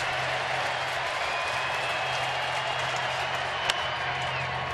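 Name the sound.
baseball stadium crowd at Minute Maid Park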